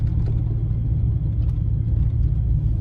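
A V10-powered Dodge Ram 2500 pickup rumbles along the road, a steady low engine drone with road noise, moderately loud and continuous with no voices.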